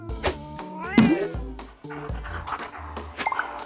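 A cat meows several times in quick succession, close and loud, with rising and falling wails.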